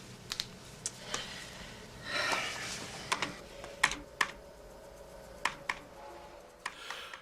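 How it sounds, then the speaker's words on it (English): Keys clack on a computer keyboard in short irregular bursts, fairly quiet and close, with a brief flurry of faster typing. "Just use the keyboard."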